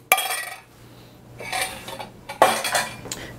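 A utensil mixing a watery cucumber stuffing mixture in a bowl, giving close, loud clinks and scraping strokes against the bowl in a few separate bursts, with no talk.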